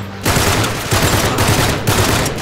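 Relentless automatic gunfire from the Uncharted 3: Drake's Deception video game, loud dense bursts of rapid shots hammering on for the full stretch with brief dips between volleys.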